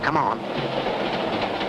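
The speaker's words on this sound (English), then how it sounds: "The train must have jerked just then." Cartoon train running on rails, a steady rumbling clatter heard up close for a short stretch, with a voice speaking briefly over it at the start.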